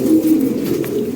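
Fancy pigeons coo in a low, steady murmur, close and continuous, with no voices over it.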